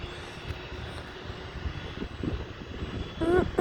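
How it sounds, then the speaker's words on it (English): A Cessna light aircraft taxis at Dulles airport, its engine a low, distant drone under steady background rumble, with faint voices rising near the end. "there's gonna be a Cessna taxiing"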